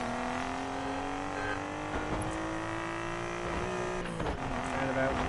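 A tuned car engine in Need For Speed Payback drones with a throaty, steady tone that rises slightly, with brief shift blips, while someone talks over it.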